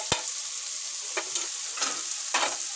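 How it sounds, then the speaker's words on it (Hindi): Spices sizzle gently in a frying pan for an Indian sabji of potato, paneer and peas, with a few soft scraping stirs spaced across a quiet background hiss. "और इसको हल्के से चलाएंगे।"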